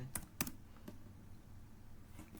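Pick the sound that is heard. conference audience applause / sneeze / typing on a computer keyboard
typing on a computer keyboard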